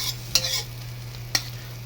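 Vegetables stir-fried in a pan, two sharp scraping clacks of a utensil over a steady low hum and faint sizzle, close and alone with no voices.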